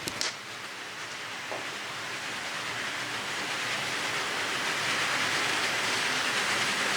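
A used Athearn Canadian Pacific AC4400 model locomotive runs along the track with a steady, hissing wheel-and-motor whir that grows slightly louder, after a couple of faint clicks at the start.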